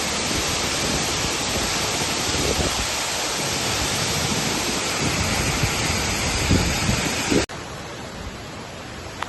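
Ranpat waterfall near Ratnagiri roars in heavy rain, a loud, unbroken broadband rush of falling water close by that drops suddenly in level near the end.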